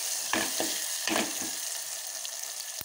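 Onion and tomato fry in a pan with a steady, close sizzle, broken by a few short scraping stirs early on; no one speaks.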